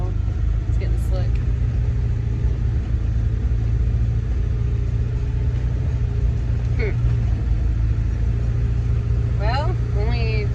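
A tractor hauls round hay bales across a slick field, its engine rumbling in a steady, loud drone throughout, with faint higher chirps and squeaks over the continuous low roar.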